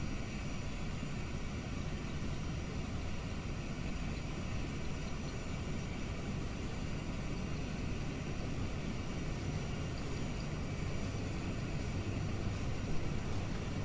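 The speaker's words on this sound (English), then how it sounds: "Releasing the brakes, applying flex takeoff power" Airbus A320 engines spool up to flex takeoff power on the runway at Sydney, a loud, steady jet roar and whine that holds constant throughout with no voices.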